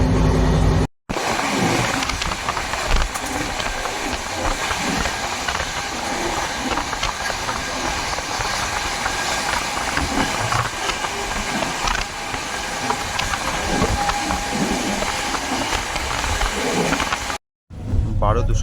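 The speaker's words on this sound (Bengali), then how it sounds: "এই ট্রেনটা সেসব দিক থেকে অনেক ভালো এবং গতি যথেষ্ট ভালোই" The Howrah Duronto Express (12245) runs at speed, heard from on board as a loud, continuous rumble and rattle with hiss that holds for the whole stretch, cutting out briefly near the start and end, with faint voices in the background.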